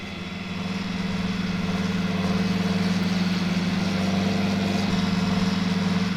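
A tractor fitted with a front-mounted fertilizer sprayer runs in a farming video game, its engine droning at a steady, loud idle-like hum that holds evenly throughout.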